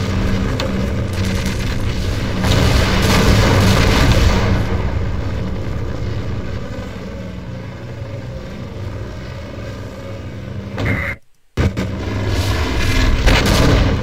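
Rocket blasts in Half-Life: Source, a loud, continuous barrage of booming explosions and rumbling game noise that holds steady throughout, cut by one brief silent gap near the end before the din resumes.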